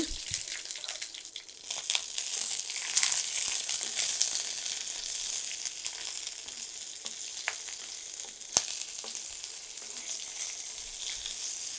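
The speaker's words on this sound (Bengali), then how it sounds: "পাঁচটা শুকনা মরিচ আর 3টা কাঁচা মরিচ ভেজে নিচ্ছি।" Five dried red chillies and three split green chillies fry in a spoonful of hot oil, a steady close crackling sizzle with occasional sharper pops and faint clicks.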